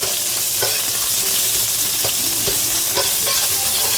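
Pork belly searing in hot oil in a pan, giving a loud, continuous sizzle and crackle with occasional sharper pops, close up and with no voices.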